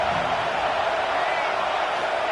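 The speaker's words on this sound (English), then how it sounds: "Here comes the noise from this big crowd in Happy Valley on third down." Dense, steady roar of a huge football stadium crowd at Happy Valley on third down, a constant wall of noise with no breaks, close and loud.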